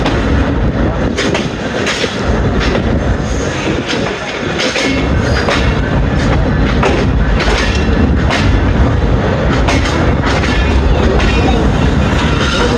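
Hazara Express, a 12 Down passenger train with new coaches, pulls into Kot Najibullah railway station, its heavy continuous rumble and rail clatter loud and close throughout with no voices.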